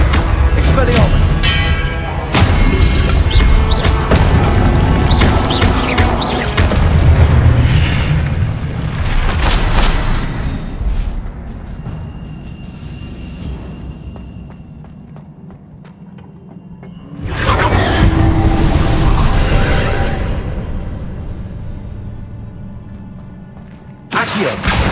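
Expelliarmus spell impacts in Hogwarts Legacy gameplay land as loud, booming bursts with a heavy low rumble, in one long swell that fades before a second wave of blasts returns near the end.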